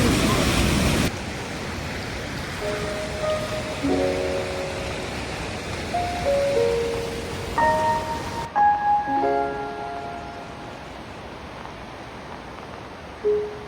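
A river in the Gurez valley on the Srinagar to Gurez route rushes steadily in a broad, hissing roar, loud and close throughout, while a few brief voice fragments and faint tones sit over it.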